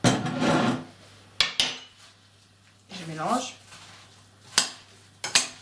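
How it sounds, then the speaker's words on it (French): A spoon clatters against a bowl while rum is stirred into apples for a gluten-free crumble, with several sharp metallic knocks and scraping sounds spread unevenly across the clip, loud and close. "Je mélange bien pour que tout s'imprègne."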